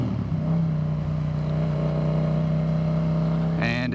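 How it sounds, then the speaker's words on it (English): A Yamaha MT-07 with an Akrapovic carbon exhaust roars in a loud, sustained engine note with slight pitch shifts, and a brief voice is heard near the end. "God, I love those downshifts."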